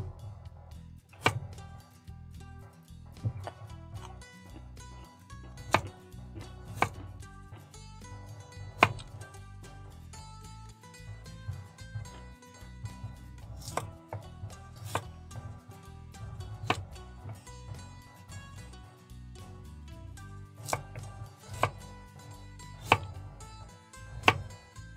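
A knife chops carrots on a cutting board during a home cooking session for shrimp stew, with sharp irregular chopping strikes repeating over a steady background of music.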